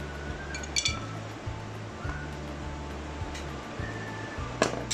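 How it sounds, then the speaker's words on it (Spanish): Coffee goes into a glass while making an iced Starbucks-style coffee, giving a few sharp, close glass clinks over a steady low hum. "Entonces primero vamos a echarle el café."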